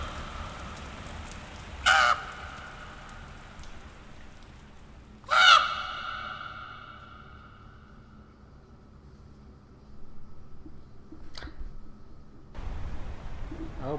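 Crows in the horror adventure game The Last Door give two sharp, loud caws several seconds apart, each ringing out over a faint, rain-like background hiss that later swells slightly.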